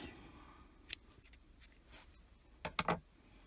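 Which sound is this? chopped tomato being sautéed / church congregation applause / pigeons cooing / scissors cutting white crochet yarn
scissors cutting white crochet yarn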